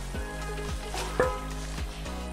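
Chicken pieces drop into hot oil for a pepper chicken masala, setting off a steady, close crackling sizzle with a brief louder spit partway through and no talking.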